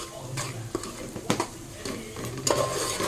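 A spoon stirs a dal khichdi mixture in a pan with soft scraping and light clinks, interspersed with faint sizzling.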